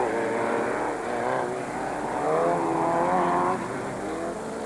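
Porsche-engined off-road race cars compete in a 1996 Super Series race, a steady loud engine drone with rising and falling revs as the cars pass, continuous across the whole stretch.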